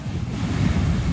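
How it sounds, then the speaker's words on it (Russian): Strong storm waves surge on the Sochi shore, a loud continuous roar of churning surf with heavy wind buffeting the microphone throughout. "Ой, смотрите, какая сильная волна."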